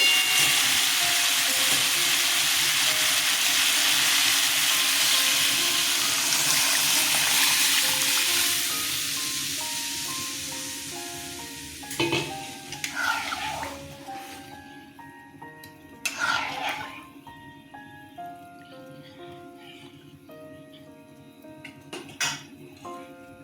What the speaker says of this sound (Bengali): আলুগুলো অনেকটা নরম হয়ে গেছে এবার ডালটা ঢেলে দেবো